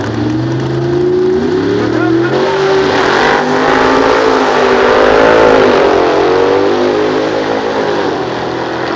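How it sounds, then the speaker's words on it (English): A Studebaker pickup truck powered by a 454 cubic inch Chevrolet engine roars loudly down a drag strip at a 1993 nostalgia drag race at Sears Point, its engine pitch climbing and wavering through gear changes with no break. "Dwayne Cameron out of Washington with a Studebaker pickup truck, also powered by 454 cubic inches of Chevrolet."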